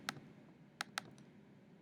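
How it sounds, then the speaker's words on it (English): Keys pressed on a calculator while working out a trigonometry problem, a few sharp isolated clicks spaced unevenly, quiet and close. "Typing that into our calculators"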